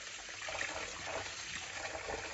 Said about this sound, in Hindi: चिकन मैंने वॉश किया, पानी डाल रही हूँ, डाल दिया है।